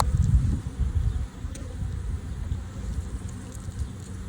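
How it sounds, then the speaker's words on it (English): A low, steady hum of many honeybees buzzing close by during a hive inspection, continuous throughout with small swells in loudness and no talking. "I don't want any more swarms because there's still quite a few bees."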